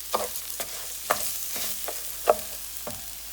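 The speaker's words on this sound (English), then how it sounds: "I'm just going to saute the arborio rice with the onions and olive oil" Arborio rice sautéing with onions and olive oil in a pan, a steady soft sizzle with several distinct scraping stirs spaced about half a second to a second apart, close and moderately quiet with no talking.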